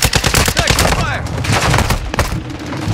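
Gunfire in Call of Duty Warzone on Ashika Island: loud, rapid bursts of automatic shots crack in close succession and then trail into scattered single reports, with no talk over them.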